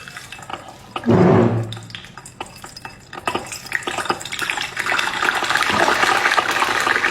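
Giant spider frying in hot oil: a constant hiss and crackle of bubbling oil runs throughout, with a brief louder clatter near the start and then steady dense sizzling.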